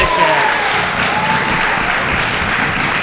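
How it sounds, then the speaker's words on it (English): A hometown crowd at a jiu-jitsu event cheers and applauds steadily after a submission finish, a dense, loud wash of clapping and shouting that holds without a break. "the hometown crowd is quite excited"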